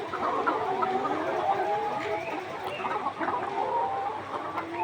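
Layer hens about 147 days old cluck and murmur steadily in a laying house, a dense overlapping chatter of many birds at moderate volume with no pauses.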